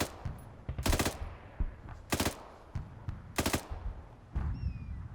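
Several loud bursts of automatic gunfire from a bipod-mounted weapon in Arma 3, in a Falklands War setting, come in three separated volleys with a shorter burst at the end. There is no talk.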